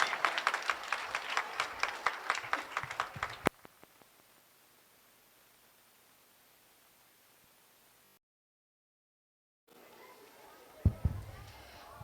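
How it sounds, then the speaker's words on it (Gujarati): Audience clapping at a school Republic Day celebration at an ashram in Surat, a steady ripple of applause for a few seconds that stops abruptly, followed by near silence and a few faint thumps. "સૌ પોતપોતાના માટે પણ તાળીઓનો ગડગડાટ કરશે"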